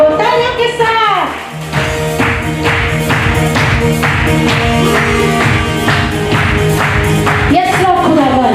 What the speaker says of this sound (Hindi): तालियों के साथ